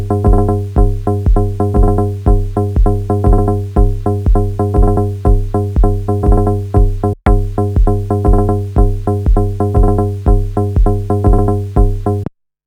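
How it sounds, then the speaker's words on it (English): A steady, punchy kick drum pulses against a resampled tonal loop whose length is swept by an LFO, giving a stuttering, shifting rhythmic texture; loud and continuous apart from a brief dropout midway, no talk. "And what we've got now is a kick drum playing against this resampled sound where an LFO is adjusting the"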